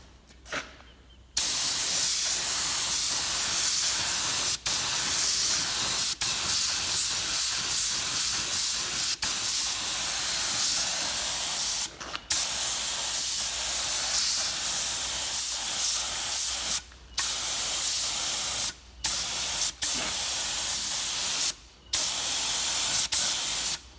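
Black spray paint hisses from an aerosol can onto parts of a VH Valiant Charger, in long steady bursts broken by brief pauses and a few short gaps, close and loud.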